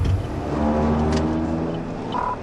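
A red SUV speeds along a road during a police pursuit, a loud, close engine roar with rising revving tones that stays strong for the full couple of seconds, with no talking.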